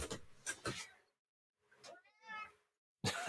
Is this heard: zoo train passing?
no